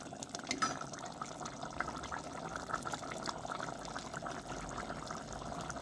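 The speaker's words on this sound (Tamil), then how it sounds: "இனி இதுக்கு முதலாம் பாலை விடுவோம்." Thick first coconut milk pours steadily into a simmering Jaffna-style cuttlefish curry, a soft continuous liquid gurgle and splash at close range with no talking.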